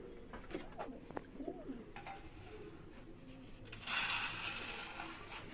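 Pigeons coo softly in a loft, a few low murmuring calls in the first seconds, followed by a rising hiss of rustling and flapping toward the end.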